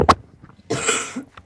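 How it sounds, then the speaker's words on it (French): A sharp single cough, then a longer rough burst like a cough or throat clearing, close to the listener in a quiet room. "Si vous m'entendez tousser, c'est pas normal"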